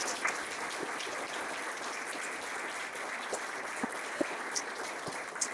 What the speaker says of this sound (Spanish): así que les pido un fuerte aplauso para ya empezar.